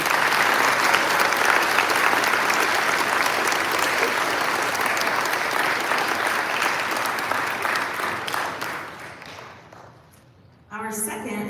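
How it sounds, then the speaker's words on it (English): A large crowd at a high school commencement ceremony applauds loudly and continuously for around ten seconds, fading away before a voice starts speaking. "Please join me again in a well-deserved round of applause"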